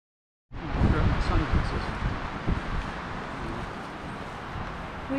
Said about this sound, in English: It's very, very windy, and I don't have the mics on